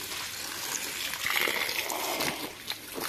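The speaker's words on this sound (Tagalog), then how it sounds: "Dito sila kumukuha ng tubig na mainom. Ito po sa hose na to." Water from a hose at a rural drinking-water source splashes and trickles steadily, fairly close, with a gushing swell in the middle and no talk.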